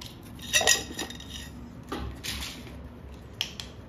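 A spice container in a kitchen is opened and handled, giving a few close metallic clinks and clatters, the sharpest near the start, then softer knocks and a light tap near the end.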